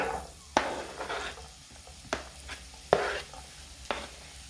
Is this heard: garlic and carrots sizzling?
yes